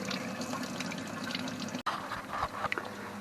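Water gushes in a steady, continuous stream from the outlet of an outboard motor being flushed with citric acid using a bilge pump, with splashing that briefly cuts out and then resumes.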